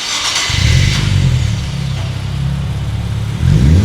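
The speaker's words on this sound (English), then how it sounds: "Now, let's give this car a few revs to let you hear how it sounds." Widebody Nissan Z fitted with a Blitz catback exhaust and titanium tips, starting from a brief burble into a loud, steady rev hold, then dropping and snapping into a second rise, close and alone.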